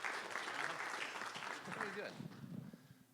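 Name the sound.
audience applause for Jerry and Tech Futures Group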